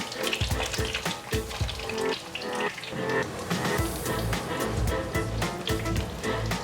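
Thick layered cabbage slices pan-fry in hot oil, giving a close, busy sizzle and crackle with bursts of spattering and a few sharper pops as pieces are turned.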